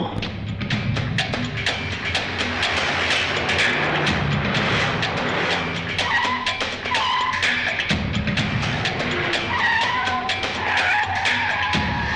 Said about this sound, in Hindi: बल्लू, गाड़ी निकालो।